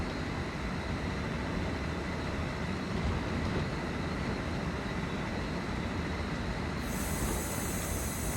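Simulated bi-level cab car commuter train on the Peninsula Corridor in Train Sim World 2020, rolling along with a steady loud rumble of wheels and rails and a sustained faint squeal, without any speech.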